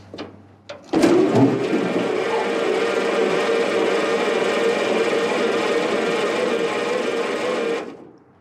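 Starter cranking the engine of a 1929 Ford Model AA Express barn-find truck with its spark plugs removed: a click, then a steady, slow whirring drone for about seven seconds that cuts off abruptly.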